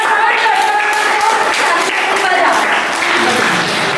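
Applause from a group of people during a comic skit set around an Independence Day (15 August) school event, a dense steady patter of clapping with voices mixed in underneath.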